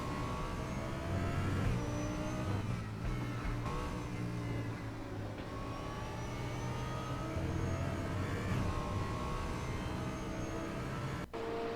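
DTM 2021 race cars in a sim racing game at the Red Bull Ring, running nose to tail in a close pack, with engines droning and revving steadily and loudly throughout.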